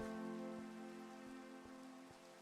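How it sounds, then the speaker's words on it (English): Steady rain falls in a video game, a soft continuous hiss with faint drop ticks at a low level, alone beneath a sustained tonal background hum. "Rain right away. It really does suck."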